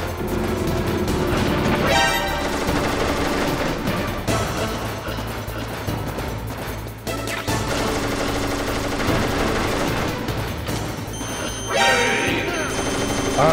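Rapid gunfire from the PlayStation game Metal Gear Solid during the Vulcan Raven boss fight: dense, sustained bursts of shots that keep up almost without pause over game music and effects, with a brief dip midway.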